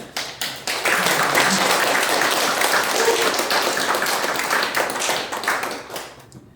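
Audience applause during a seminar on a global mobile telecom business, with dense, sustained clapping from a crowd that starts with a few claps, swells and then gradually thins out.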